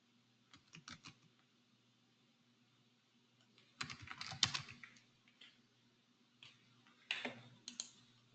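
Bursts of typing on a computer keyboard, quiet and fairly close, come in three short clusters of key clicks separated by near-silent pauses over a low steady hum.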